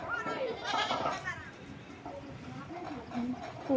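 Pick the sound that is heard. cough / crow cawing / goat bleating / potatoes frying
goat bleating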